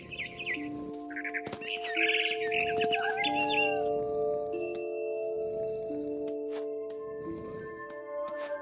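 Bird chirps and calls from the video game What Remains of Edith Finch, a few bright, bursting tweets at the start, set over sustained tonal game music.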